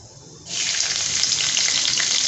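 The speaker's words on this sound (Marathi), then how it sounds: "जिरी मोहरी तेलामध्ये मस्तपैकी मी तडतो तडकून दिलेली आहे आता याच्यामध्ये लसूण टाकून घ्यायचा" Garlic drops into hot oil with cumin and mustard seeds: a quiet moment, then an abrupt, loud, steady sizzle that holds close and bright to the end, no voices.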